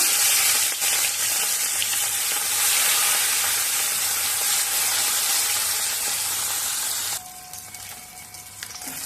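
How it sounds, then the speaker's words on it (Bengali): Pieces of rui fish sizzle and crackle in hot oil while being fried for a Bengali fish curry. The steady, loud frying hiss drops noticeably quieter near the end. "এবার তেলটা গরম হলে মাছ দিয়ে দেব"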